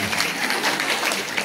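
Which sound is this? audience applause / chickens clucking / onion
audience applause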